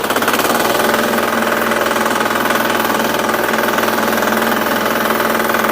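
A small garden tractor engine runs steadily and loudly while plowing a garden with the rear axle engaged, giving a close, even, rapid chugging drone with no break.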